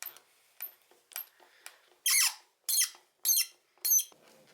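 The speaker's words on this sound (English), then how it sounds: "all we need to do that is a Phillips screwdriver, and there are 4 Phillips screws all around this housing here" Phillips screwdriver turning screws out of a BMW E34 fog light housing, producing a series of short, high squeaks in a steady rhythm, close and clear in a quiet space.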